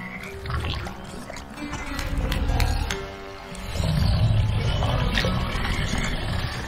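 In the video game Bramble: The Mountain King, a giant crowned frog king lets out deep, loud, rumbling roars in two long swells over a dark, droning game soundtrack.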